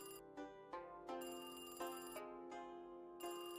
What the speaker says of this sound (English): What is that ringing noise?